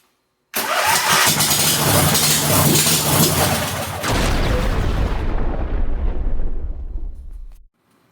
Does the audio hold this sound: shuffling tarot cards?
no